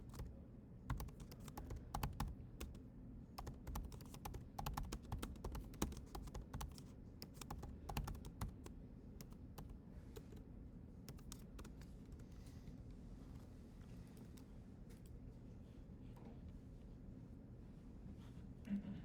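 Code being typed on a computer keyboard: quiet, rapid irregular key clicks in bursts over a low background hum, fairly faint and close, with no talking.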